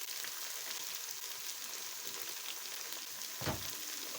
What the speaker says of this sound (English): I'll still stir the pots.